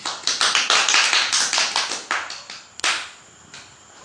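Children clap their hands during a remedial grammar lesson: a quick, steady run of crisp, close claps that thins out toward the end, with a last sharp clap and then near quiet.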